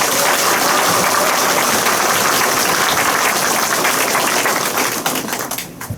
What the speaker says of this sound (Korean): 여기 앉아 계신 모든 분들은 우리 국회의원님께 환영의 박수